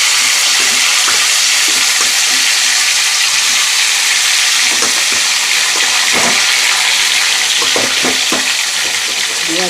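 Mango pieces fry in hot oil with chillies, giving a loud, continuous close-up sizzle and hiss, with scattered scraping and clattering from stirring throughout.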